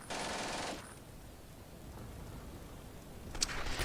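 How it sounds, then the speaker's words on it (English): Machine gun fire in Combat Mission Beyond Overlord, a rattling burst at the start, then quieter battlefield rumble before another short sharp burst near the end, with no talking. "I have a couple of machine guns set up"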